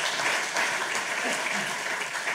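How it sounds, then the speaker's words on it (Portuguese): An audience at a live music show claps in a dense, steady burst of applause that fills the whole moment at even loudness. "Mais um aplauso."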